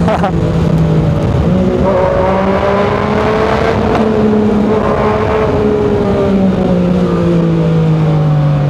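A 2019 Yamaha Niken 900 three-wheeled motorcycle's engine revs loud and close, its pitch climbing and holding in sustained pulls, with someone speaking over the engine.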